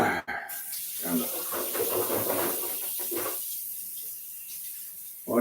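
Tap water runs and splashes into a sink while hands are washed and rubbed beneath it, a steady broadband rush lasting a few seconds before it cuts off, close by, with no talk over it.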